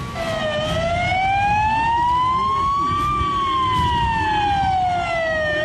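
A passing fire truck's wailing siren sweeps slowly up and down in pitch, loud and close, over a rumbling engine, steady throughout.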